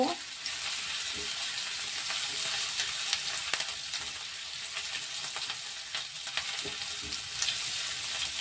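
Chopped ginger stir-fries in hot oil for restaurant-style chili paneer, a steady close sizzle running throughout with occasional soft scrapes of stirring.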